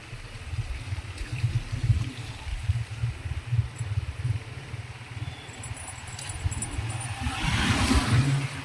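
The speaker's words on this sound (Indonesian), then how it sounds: "Air mengalir." Rainwater flowing during a downpour makes a steady close rushing and gurgling wash, swelling louder toward the end, with a faint low engine-like hum underneath.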